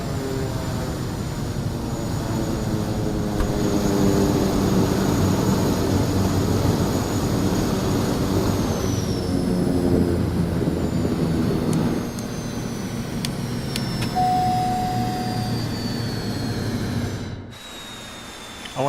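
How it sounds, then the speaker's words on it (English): The Kodiak 100 turboprop engine drones steadily in Microsoft Flight Simulator 2024, a continuous mid-loud hum with a faint rising whine, then drops abruptly near the end. "I wonder if that'll stop the engine sound though."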